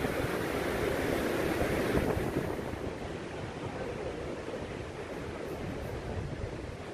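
Steady rushing of ocean surf and wind buffeting the microphone, a broad continuous wash of noise with no talking.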